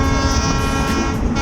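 An excursion train in Sacramento rumbles past loud and close, a steady dense roar of wheels and engine with a horn-like tone riding over it throughout.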